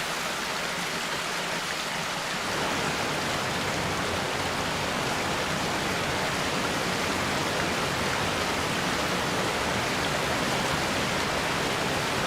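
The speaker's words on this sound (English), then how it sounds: "As they plunge down the mountain slopes, the cascades grow ever larger" Monsoon runoff cascades plunging down mountain slopes in India, a dense, steady roar of rushing water that thickens after a few seconds and carries on unbroken and loud.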